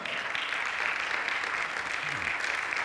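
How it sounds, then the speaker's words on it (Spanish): A church congregation claps for the Lord during an evening Spanish-language sermon. The applause is a faint, steady wash of clapping lasting about three seconds with no voices. "¿Cuántos pueden darle un aplauso al Señor en esta noche?"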